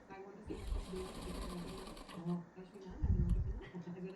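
A sewing machine with a double foot stitches the lining of a boat neck embroidered work blouse in short whirring bursts, while a person talks over it.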